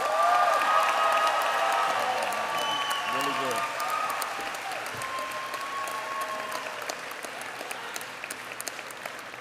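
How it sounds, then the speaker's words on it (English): A commencement crowd applauds steadily for an outstanding graduating senior receiving an award, the dense clapping sustained throughout while a voice speaks briefly over it. "Everybody, please join me in giving Max a round of applause."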